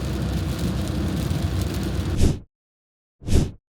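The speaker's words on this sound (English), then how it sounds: "Of course it's got to rain." Rain drums steadily on a moving car as it drives, a dense hiss that cuts off abruptly, followed by a brief swell of the same noise after a short silence.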